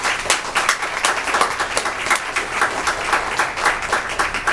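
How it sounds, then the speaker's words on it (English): An audience at a Union County commissioners meeting applauds, with a steady patter of many hands clapping at moderate loudness, with individual claps standing out throughout. "That deserves a big round of applause right there before I go any further."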